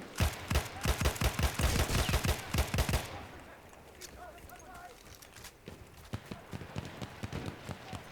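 Rapid bursts of automatic gunfire in Battlefield 1, loud and rhythmic for the first few seconds, then sparser scattered shots amid quieter battlefield ambience.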